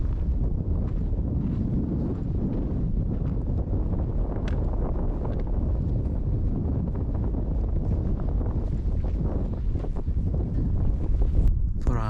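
Steady breeze buffeting the microphone at a coastal wild camp on South Head, a continuous low rumbling roar with gusty swells throughout and no speech.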